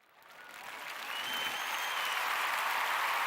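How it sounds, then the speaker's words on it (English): Applause from an audience welcoming a guest named Ethan onto a show, swelling from quiet to a full, even roar of clapping within a second and holding strong. "So everybody give a round of applause for Ethan."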